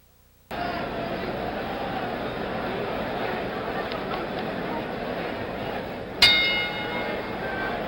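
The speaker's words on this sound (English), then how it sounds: "The bell for round 4." A boxing ring bell sounds a single sharp clang to start round 4 of the Jimmy Young versus George Foreman fight, cutting through loud, steady arena crowd noise.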